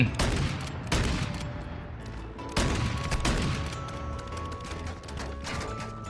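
Bursts of gunfire in Call of Duty Warzone Mobile crack out loudly and close, several sharp volleys spaced a second or so apart, with ringing echoes and game sounds filling the gaps.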